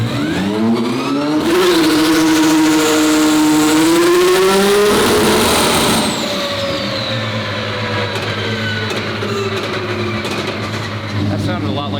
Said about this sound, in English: That sounded a lot like a rev limiter to me.